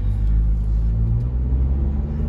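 A 2022 Ford Bronco driving in sport mode, holding its gear, makes a loud, steady low engine rumble and road drone from inside the cabin with no speech.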